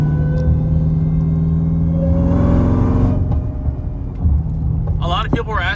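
An AWD Chrysler 170 fitted with a Dodge Charger Hellcat catback exhaust rumbles deeply while driving, a low steady drone that eases off, with a brief burst of other sound near the end.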